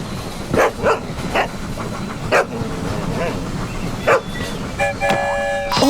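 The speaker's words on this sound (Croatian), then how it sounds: "Pas." A dog gives several short, sharp barks in an uneven rhythm over a low rumbling background, with brief tonal chimes near the end.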